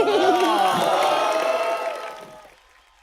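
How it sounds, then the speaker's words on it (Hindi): A television show studio audience cheers and claps loudly with some whoops, then the noise fades away over the last second. "नेहू के लिए जोरदार तालियां।"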